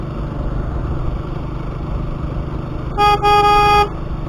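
Road noise and engine rumble on the Mount Abu ghat road, then a car horn honks twice in quick succession, loud and close, near the end.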